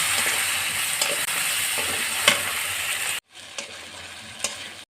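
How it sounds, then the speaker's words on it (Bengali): Ground spice paste being stir-fried in a pan with fried onion and garlic for a fish curry: a steady close sizzle with repeated scraping stirs, briefly dropping out near the end. "এখন আমি দিয়ে দেবো বাটা মশলা দিয়ে আমি ভালোভাবে কষিয়ে নেব"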